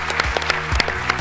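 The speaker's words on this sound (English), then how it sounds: "Round of applause for our panel." Brief audience applause for a panel at a sports analytics conference ballroom, steady clapping throughout with a couple of low thumps.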